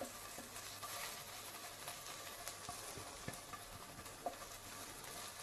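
Potatoes frying in a pan for a vegetarian kebab sizzle quietly and steadily, with occasional soft knocks and scrapes as they are stirred.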